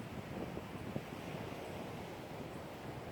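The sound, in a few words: sea waves and wind on a rough sea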